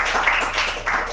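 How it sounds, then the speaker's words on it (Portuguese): A church congregation claps hands together in praise during a Portuguese-language worship service, a dense burst of loud, fast applause heard briefly and up close. "Vamos louvar ao Senhor com palmas bem forte para Jesus"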